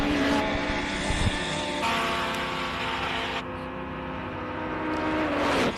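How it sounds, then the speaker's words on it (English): A heavily modified hill climb race car, a Subaru, holds a loud sustained high-revving engine note near an Indy car's, with sharp gear-change steps as pitch rises and drops, close and alone. "Sounds like an Indy car on the line"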